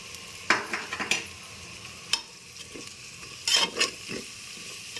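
Spice mix of coconut, poppy seeds, coriander, cinnamon and cloves frying in a pan, a low sizzle broken by several sharp scrapes and clinks of a spoon stirring against metal, irregular and close.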